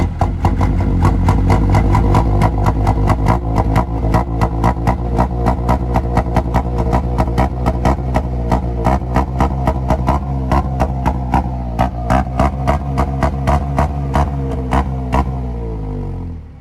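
An Otokar M2000 Magirus bus engine revs hard and loud up close, its deep throbbing pulses repeating rapidly and evenly for over fifteen seconds before cutting off abruptly, with no talking over it.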